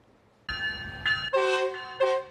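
A Metrolink commuter train on the line in San Bernardino sounds a series of loud, close horn blasts, several long tonal toots in a row over low rumbling rail noise.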